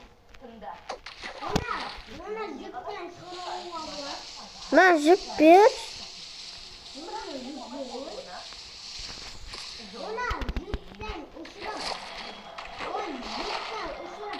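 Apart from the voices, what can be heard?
Minecraft horse falling into water, splashing, from a video game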